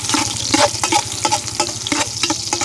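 Onion sautéing in a pan in a mountaintop hut kitchen, with a steady oily sizzle and repeated soft scraping stirs at an even pace, close and fairly loud, with no talking.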